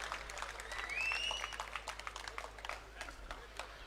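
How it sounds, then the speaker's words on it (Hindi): At a BJP election office inauguration and party-joining ceremony in Hisar, a crowd claps to welcome Savitri Jindal, faint, somewhat sparse applause with individual claps standing out and a brief whistle-like tone early on. "आप सब जोरदार तालियों से सावित्री जिंदल जी का स्वागत करें।"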